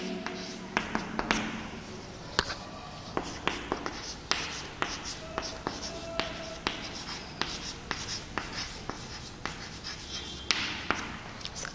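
Keystrokes tapped on a computer keyboard while entering input for a program, an irregular run of sharp close clicks and taps, fairly quiet, with no speech.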